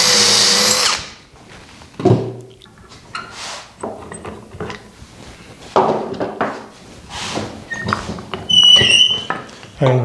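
A power drill bores dowel holes into a wooden bedroom dresser rail in a shop, in several short loud bursts with pauses and tool handling noises between them.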